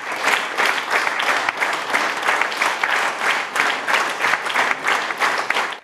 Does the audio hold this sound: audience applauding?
yes